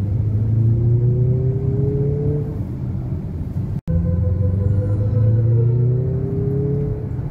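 A Mazda CX-50 pulling at full throttle, its engine drone climbing steadily in pitch, then cutting briefly for a downshift before rising again, loud and close from inside the cabin.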